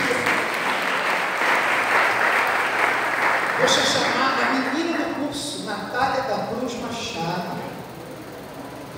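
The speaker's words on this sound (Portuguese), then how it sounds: "Você pode aplaudir a Deus do céu?" A church audience at a theology preaching course applauds in a steady, dense wash of clapping, with voices and some talking mixed in over it.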